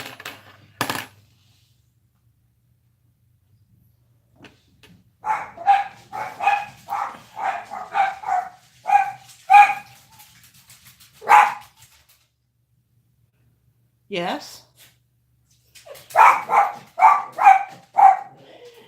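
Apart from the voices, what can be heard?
dog barking and huffing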